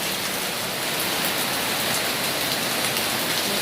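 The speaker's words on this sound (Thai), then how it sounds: "ท่ามกลางสายฝนนะคะ" Heavy rain from Storm Noru pours down in a dense, unbroken hiss, loud and close, with no voices.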